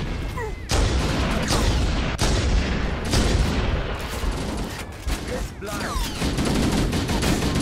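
Sustained gunfire from the video game Halo, with loud overlapping bursts and sharp shots running almost continuously, interrupted by a few brief gaps, alongside explosions and game action.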